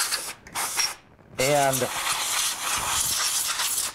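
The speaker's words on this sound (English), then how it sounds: "I'm gonna hit it again here with the canned air." Bursts of canned air spray snow off an RC car, broad hissing blasts with short gaps between them, while someone talks briefly.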